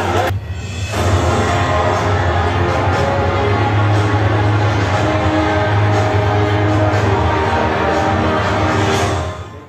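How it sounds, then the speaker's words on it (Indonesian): A large crowd at an Indonesian award ceremony in Aceh applauds loudly and steadily, a dense wash of clapping with some cheering that holds throughout before tapering at the very end. "Kita berikan tepuk tangan yang meriah Bapak Ibu sekalian"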